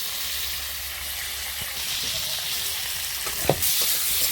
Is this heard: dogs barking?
no